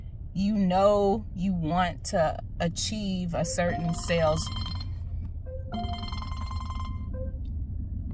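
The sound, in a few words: telephone ringing, incoming phone call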